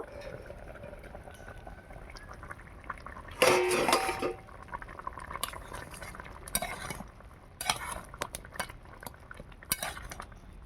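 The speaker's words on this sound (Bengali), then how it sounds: "এবার ঢাকাটা খুলে একটু নাড়াচাড়া করে দেব" Lid lifted off a pot of soybean and egg curry, then a spoon stirs and scrapes through the thick gravy: a loud clattering burst, then scattered metallic scrapes and knocks over a low simmering background.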